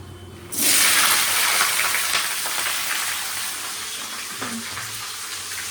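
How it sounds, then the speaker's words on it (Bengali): Carrots for a vegetable curry hit hot oil in a wok with a sudden loud hiss that rises sharply, then settles into a gradually fading, steady sizzle, close up with no voices. "এই তরকারিটা ভাজতে চাপিয়ে"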